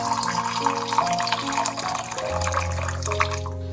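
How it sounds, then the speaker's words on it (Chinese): Boiling water poured from a kettle into a bowl of brown sugar, a continuous splashing stream whose pitch rises as the bowl fills, close and fairly loud. "再倒入300克开水。"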